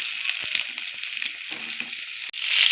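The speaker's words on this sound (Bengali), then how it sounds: "আলু আর পেঁপেটা ভাজা হয়ে গেছে চিকেনে" Potatoes and papaya pieces frying in oil with chicken in a pan, a steady close hiss of sizzling with occasional stirring scrapes, briefly cut off near the end before resuming.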